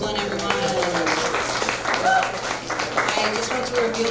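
Audience applause for comedian James Copeland at a live comedy show at Gold Lion in Richmond, Virginia, a steady wash of clapping lasting a few seconds with some voices and a bit of tonal sound mixed in.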